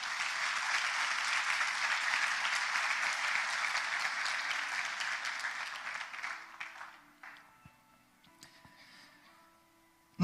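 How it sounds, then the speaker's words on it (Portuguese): A church congregation applauds during a worship service, a full, even wash of clapping that holds for several seconds, then tapers into scattered claps and near silence. "Você pode aplaudir a palavra de Deus?"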